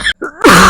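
A person with a cold gives a short, harsh throat-clearing cough, close and loud, after a brief breathy lead-in.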